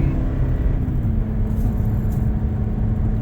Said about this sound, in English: just getting into the gas a little bit,